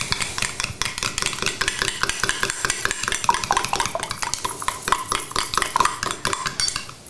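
A utensil stirs rapidly in a pot or bowl in a cooking workshop, making a close, rhythmic run of clinks and scrapes that carries on without pause.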